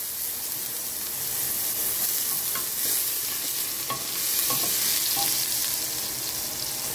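Garlic and ginger sizzle in hot cooking oil for a Filipino sautéed mung bean stew, a steady close broadband frying hiss with occasional scraping stirs over it.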